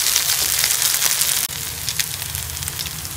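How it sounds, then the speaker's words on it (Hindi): Potato kababs fry in a pan, a loud, dense crackling sizzle close up that drops briefly midway and then continues steadily. "इसी तरह से दूसरी साइड से भी गोल्डन होने तक जो है वो कबाब फ्राई कर लूँगी"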